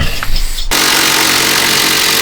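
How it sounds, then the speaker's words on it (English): A power ratchet loosening the bolts on a set of cheap eBay racing coilovers kicks in after a brief pause, then runs as a loud, steady, continuous whir close by. "Got tired of using hand tools, so now we got the power ratchet."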